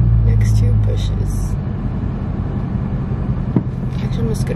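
Car pulling to a stop beside roadside bushes, with a loud low engine rumble that eases off, heard from inside the cabin while people talk over it.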